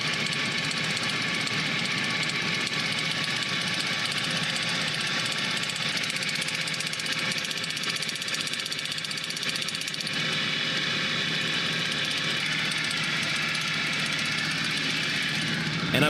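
A monster truck engine idles steadily with a continuous rough rumble and knocking vibration, loud and close, unchanging throughout.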